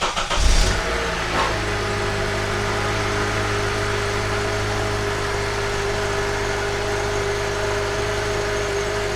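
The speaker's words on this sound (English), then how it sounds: "I can go ahead and start the vehicle" A car engine catches after a brief crank and then settles into a steady, close idle with a constant low drone, and no voices are heard.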